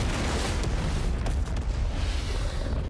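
In an animated Ninjago scene, spiders get inside and blow everything up. The explosion is a loud, sustained roaring blast with rumbling debris that fills the whole stretch and cuts off abruptly at the end.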